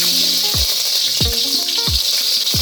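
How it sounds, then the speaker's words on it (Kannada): Green chillies drop into hot oil already crackling with mustard seeds, a loud continuous sizzle punctuated by several sharp popping bursts spaced about half a second apart, close and without talk. "ಈಗ ಹಸಿಮೆಣಸಿನ್ಕಾಯಿ ಹಾಕ್ತಾಯಿದ್ದೀನಿ."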